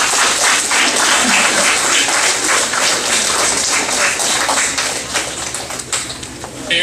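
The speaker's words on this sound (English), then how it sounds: "please give your parents and family a warm round of applause" A large graduation crowd applauds parents and families in a dense, sustained wash of clapping that fills the space, loud and steady before easing slightly near the end.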